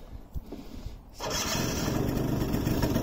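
A 1998 Yamaha Vino Sport 2-stroke 50cc scooter cranks and fires up, a brief starter whirr giving way to a steady, buzzy idle that continues close by to the end.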